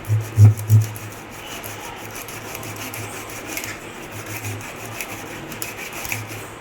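A knife rasps steadily through a fish at home, a lake pomfret being cleaned, with a few heavier strokes at the start followed by continuous scraping, close up and fairly loud with no talking.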